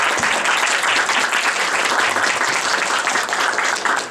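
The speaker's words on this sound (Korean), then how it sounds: "한번 뜨겁게 환영해 박수." Loud, dense applause from a leadership school audience welcoming visitors, a continuous wash of many hands clapping that holds steady for the full four seconds.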